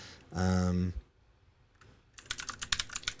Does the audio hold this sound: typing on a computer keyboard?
yes